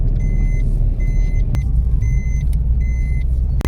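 A car drives along a mountain road on a trip to Gool Valley, giving a steady low engine and road rumble with faint, evenly repeated high beeping tones and a couple of sharp knocks.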